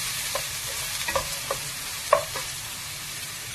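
Tempering spices fry in oil before bitter gourd goes in, giving a continuous bright sizzle with a few light ladle taps and scrapes scattered through it, no voices.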